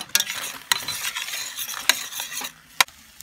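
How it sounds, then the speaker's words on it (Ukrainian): Wild mushrooms sizzle and hiss steadily as they stew in a frying pan, broken by a few sharp clicks and scrapes of a utensil stirring against the pan, with no voices. "І тепер тушкую гриби до випарювання води."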